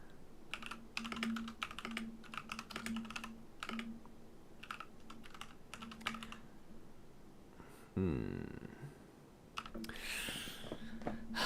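Bursts of quick clicking keystrokes on a computer keyboard come in short uneven runs with pauses between, close and fairly quiet, followed by a soft shuffling sound and a light rustle near the end.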